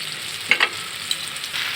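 Marinated mola fish and fried potatoes sizzle in a pan for a mustard-paste chorchori. A short, steady frying hiss carries a couple of light clicks from a utensil against the pan.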